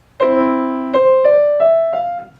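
Piano notes: a low left-hand chord sustains while a few short, bouncing staccato right-hand notes are played over it, clear and close, with no voices.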